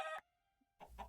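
A Minecraft chicken in the GregTech New Horizons modpack gives two short, clucking bursts separated by a brief pause, close and clear, with no talking over them.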